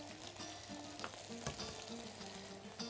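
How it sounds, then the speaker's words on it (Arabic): Peas cooking in a pot with a steady, low bubbling sizzle, soft and continuous with a few faint clinks, heard alone at close range. "هحط البسله، وهسيبها برضو تاخد غلوة كده"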